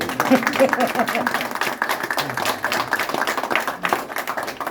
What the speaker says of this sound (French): On applaudisse Bernard et François pour leur longévité